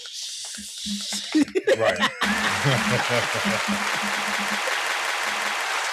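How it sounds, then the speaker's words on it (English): A small audience claps in a short burst during a live talk show, brief applause with some laughter following a spoken line, then a steady background hiss. "Where my claps at?"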